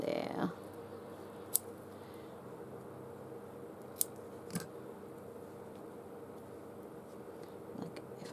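Scissors snipping a craft leaf shape for a vintage-style pin cushion, a few sparse, faint clicks spread over a quiet indoor background, with some voice present.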